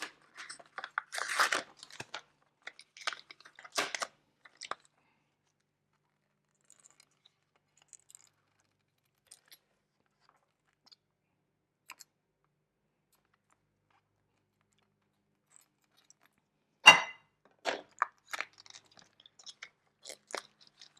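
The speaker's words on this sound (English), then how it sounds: "first things first is we're going to cut the salmon because it is way too big for what we're doing" A knife slices through a large piece of raw salmon in quiet, crisp cutting strokes, first in a cluster of short cuts, then a pause of near silence, then another burst of cuts.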